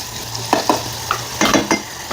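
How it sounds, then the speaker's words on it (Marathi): Onion, potato and tomato sautéing in hot oil, with a low steady sizzle broken by several distinct stirring scrapes and clatters of a spoon in the pan, close and fairly loud. "तेलामध्ये हे परतून घ्यायचं"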